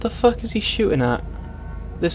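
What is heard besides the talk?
No everyday noises stand out.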